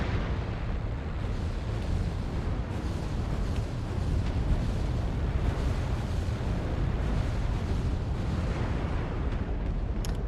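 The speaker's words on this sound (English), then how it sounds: "Stop with the artillery." Artillery strikes pound down in a MechWarrior Online battle, a dense, continuous roar of overlapping explosions and deep rumbling that stays loud and steady for about ten seconds with no pauses.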